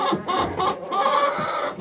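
A hen clucks and squawks insistently at close range, a string of short agitated calls running together.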